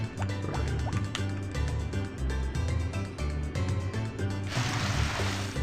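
A watering can splashes water onto crops in the farming video game Harvest Moon, with a soft liquid pour rising near the end over continuous cheerful game music.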